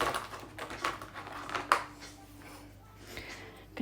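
Sharp scissors trim the loose ends of embroidery thread to an even length, making a few quick, close, crisp snips and clicks spaced apart against a quiet background.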